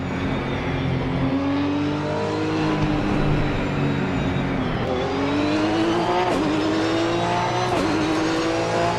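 Race car engine in Assetto Corsa Competizione at Silverstone, loud and close, climbing through the revs in rising sweeps with brief dips at gear changes, no talk over it.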